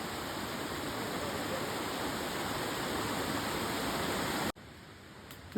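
A tall forest waterfall pours in a steady, even rush of white noise that holds constant before dropping away near the end.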